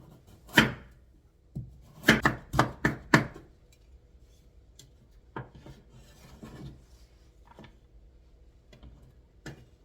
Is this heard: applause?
no